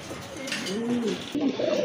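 Male Giyachulli pigeon cooing nearby, a couple of soft, rising and falling coos over quiet background.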